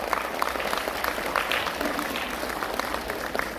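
Sustained applause for nursery to grade five children at a school attendance award ceremony, a dense, even patter of many hands clapping throughout, with faint crowd murmur and no speech over it.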